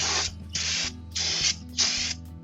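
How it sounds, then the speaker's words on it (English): Cleaner is sprayed inside an RV brake drum in four loud, close bursts of hiss, each about half a second long, separated by short pauses, over a low mechanical hum. "Spray the inside of the drum, especially the magnetic brake part of this."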